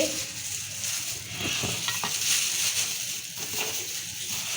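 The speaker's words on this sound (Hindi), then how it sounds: "इसको हम इससे मिक्स कर लेंगे, इसको ऐसे अच्छी तरह इसको हिला के" Fish pieces being stirred and mixed with a chilli-sauce coating in a bowl, giving a dense, continuous wet churning and rustle with a few soft knocks, close and without speech.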